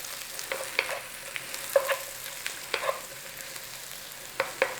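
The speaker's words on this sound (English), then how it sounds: "back in there, your bacon. Nice little stir through." Bacon hash fries in a pan while a spoon stirs it through, with a steady low sizzle and repeated scraping clatters against the pan, close by.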